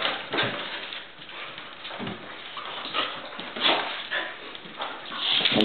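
Several dogs run and play in a corral, with soft scuffling paws, panting and occasional whimpers, fairly faint and close, without a clear bark.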